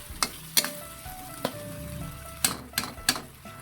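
Bitter gourd (ampalaya) sautéing in a pan with ketchup and white sugar: a steady background sizzle broken by sharp clinks and scrapes of a utensil against the pan, several distinct strikes spread across the moment, no voices.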